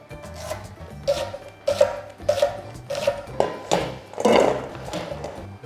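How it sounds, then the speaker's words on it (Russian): An onion is cut into quarter rings on a wooden board, with a series of sharp, evenly spaced knife chops, close and clear, and a louder scraping stroke near the end. "Лук нарезаем произвольно. Я буду нарезать четверть кольцами."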